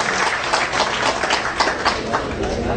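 An audience claps at a hospital anniversary ceremony, a short, loud, dense burst of many hands with a steady, even texture throughout.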